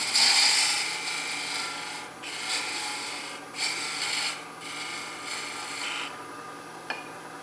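A wooden finial spinning on a woodturning lathe while a tool takes down its taper, producing a steady close scraping rasp that swells and eases in strokes over the motor's hum.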